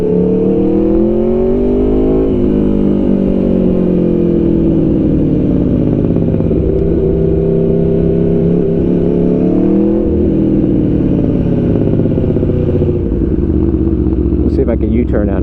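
An Aprilia Tuono V4 Factory 1100 motorcycle engine revs loud and close, its pitch climbing and dropping through several rises, while a rider talks over it throughout.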